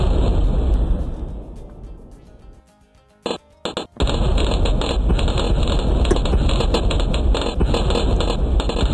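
Cannon bombs explode in Bloons Tower Defense, a short cluster of sharp pops and bursts amid dense, crackling game noise that surges back after a brief lull.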